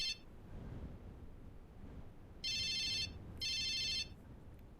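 A mobile phone in a video game rings with two bright electronic ringtone bursts, each about half a second long, over a low rumbling background hum, with no talking.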